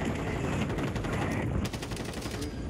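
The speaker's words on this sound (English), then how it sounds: "Oh, I'm getting shot from the right." Rapid automatic gunfire in a video game rattles continuously at moderate loudness, dense and steady across the moment with slight shifts in intensity.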